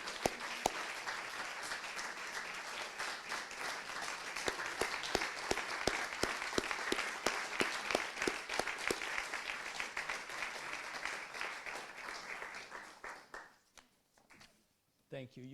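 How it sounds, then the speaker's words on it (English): An audience gives a round of applause for panelists standing at a health leadership session, sustained clapping that stays steady and loud before tapering off near the end. "Could we have all of our panelists stand up and give them all a round of applause?"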